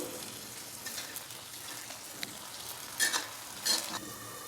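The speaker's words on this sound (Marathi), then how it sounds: "टोमॅटो टाकून घेऊया टोमॅटोवर थोडंसं मीठ टाकते म्हणजे टोमॅटो लगेच विरघळतो" Tomatoes hitting hot oil with ginger and garlic for a methi dish, giving a steady soft sizzle with stirring scrapes and a few louder spatters near the end, no talk.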